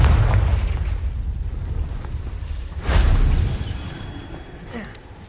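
Fiery Confringo spell blast in Hogwarts Legacy, a deep rumbling explosion with a sharp second burst midway, loud and close, then slowly fading.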